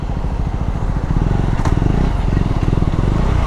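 A customized KTM 390 Adventure motorcycle rumbles loudly up close while being ridden, a steady pulsing engine note with a short clatter partway through and a rise in revs toward the end.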